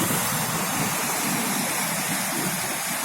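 Sea waves wash continuously at Spry Bay on a calm, windless day after a storm, a dense, steady surf hiss and rumble, loud and unbroken, with no voices.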